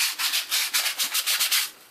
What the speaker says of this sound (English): So I'm finishing up sanding now.